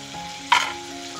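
Fried masala for an egg curry hisses sharply as a little water is added to the hot pan, a single loud burst of sizzle that quickly fades into a softer simmer.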